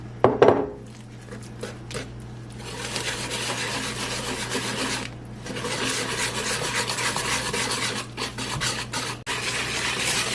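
Eggs are blended into red velvet cake batter in a bowl, making close, repeated scraping and rubbing strokes with a few sharp knocks, steady and moderately loud throughout.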